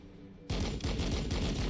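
A heavy armor unit opens fire in the video game Warhammer 40000 Battlesector, sudden after a quiet lead-in, then a loud run of evenly spaced, rapid shots.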